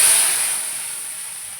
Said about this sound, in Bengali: এবার আমি সেদ্ধ ডালটা নুন চিনি দিয়ে যে সেদ্ধ করা এই ডালটা আমি ঢেলে দিচ্ছি